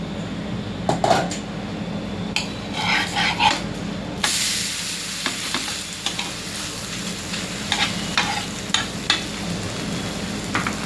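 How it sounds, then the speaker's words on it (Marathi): Semolina rava dosa batter, mixed with curd, salt and coriander, sizzles and hisses on a hot pan while utensils scrape and clink intermittently, close and fairly loud, with a brief burst of stronger sizzling partway through. "आपण आता डोसे बनवायला घेऊया"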